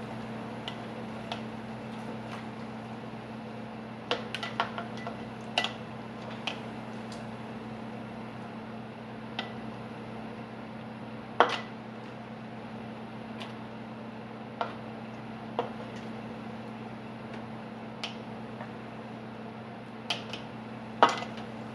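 Simmered solids are lifted out of pork broth and divided into jars with a metal utensil. Sparse, sharp clinks and taps ring out every few seconds over a steady low electrical hum, close and moderately loud.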